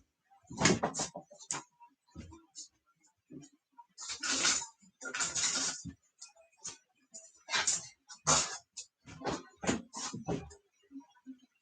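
A disposable plastic spoon is picked out of a container, giving a run of light clicks, rattles and taps close by, in irregular bursts with short quiet gaps.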